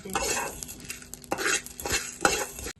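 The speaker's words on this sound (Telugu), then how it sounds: "ఒక స్పూన్ గసగసాలు ఇవి కూడా వేగితే సరిపోద్ది" A spoonful of poppy seeds fries in oil for a goat head curry, with bursts of sizzling and scraping, clattering stirs against the pan, close and fairly loud over a few seconds.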